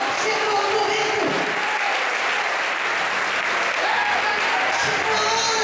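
A church congregation applauds loudly and continuously during a sermon, with raised voices and cheering mixed in through the dense, sustained clapping.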